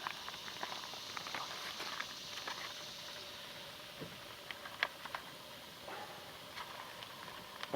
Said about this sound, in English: I'm going to lay the bacon in there and I'm going to cook the bacon first.